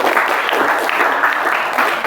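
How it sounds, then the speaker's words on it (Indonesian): Classroom applause for a student group that just finished a presentation, a steady dense patter of many hands clapping close by, even in loudness throughout with no pause. "Beri tepuk tangan pada kita semuanya"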